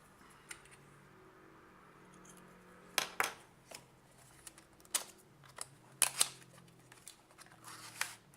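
Scissors snipping packaging while unboxing a Nintendo Switch, a handful of sharp close clicks spaced irregularly over a quiet room hum.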